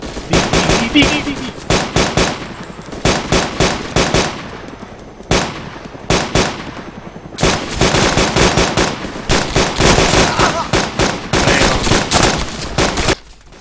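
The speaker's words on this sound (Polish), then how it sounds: "Strzelam do niego." DayZ gunfire comes in loud, rapid automatic bursts with short pauses between volleys, near and harsh, with occasional talk underneath.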